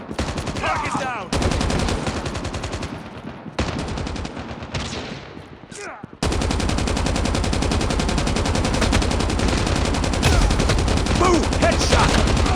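Sustained machine gun fire from the mobile shooter game Call of Duty Mobile, loud dense bursts of rapid shots that pause briefly, then resume as a continuous roaring volley with no talking.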